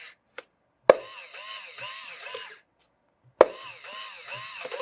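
Bunkerkings CTRL paintball loader motor spinning in two bursts, each starting with a sharp click and then a steady whirring rattle with a repeating wobble, separated by a pause of silence.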